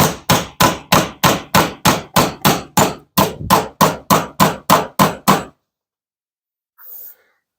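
Nails are hammered into a garage door jamb: about eighteen loud, sharp blows land in a steady, evenly spaced rhythm, close up, followed by silence and one faint knock.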